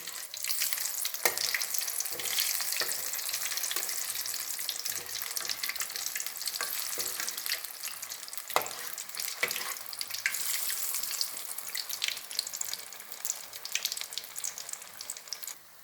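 Cassava bonda deep frying in hot oil, a continuous crackling sizzle with scattered sharper pops, close and steady throughout, joined by occasional clinks of a utensil.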